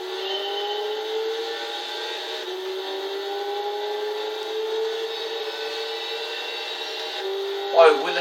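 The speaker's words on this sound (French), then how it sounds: "Oh, le bruit de la Ferrari." Ferrari engine in the Gran Turismo 6 racing game, a steady droning tone that slowly climbs in pitch as the car accelerates, with a brief louder burst near the end.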